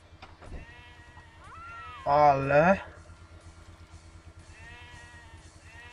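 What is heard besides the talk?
video game ram or goat bleating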